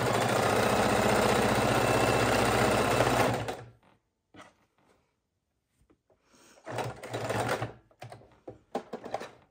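A sewing machine stitches back and forth several times over hook and loop tape on a fidget quilt, a fast loud whirring run followed by quieter short bursts and pauses.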